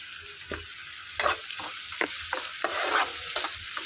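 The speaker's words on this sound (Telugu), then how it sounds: "సన్నగా తరిగి పెట్టుకుని ఉల్లిపాయలు వేసి వేయించుకోవాలి" Thinly sliced onions fry in hot oil with a steady sizzle, broken by repeated stirring clinks and scrapes of a utensil in the pan.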